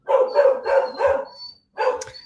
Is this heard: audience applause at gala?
no